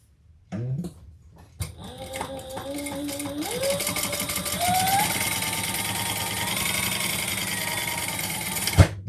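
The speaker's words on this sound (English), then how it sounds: "And then we're going to fold those over and top stitch on the side panel." A sewing machine top stitches a folded bag side panel, starting after a couple of short bursts and then running in a steady, close, continuous whir that rises in speed and holds until it stops abruptly near the end.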